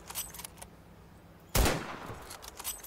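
A single sharp burst of practice gunfire in a video game cuts in sharply after a stretch of quiet, with a short loud crack and a decaying tail, then fainter sounds following.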